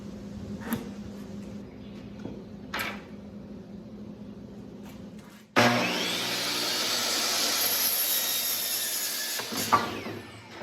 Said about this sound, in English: So time to cut a bunch of 2x4s